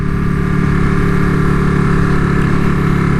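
A 2019 Ducati Panigale 959 Corse motorcycle engine drones steadily and loud throughout, a continuous close mechanical hum of a sportbike under way with wind noise.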